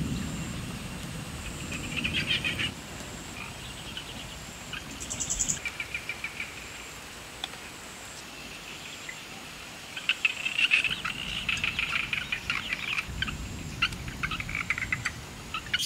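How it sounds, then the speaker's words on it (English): Steady rain hiss fills the background on a farm in Thailand while insects trill, birds chirp on and off, and frogs call faintly, no voices present. "all I can hear is the thunder, some chickens, some birds, some frogs, just the rain."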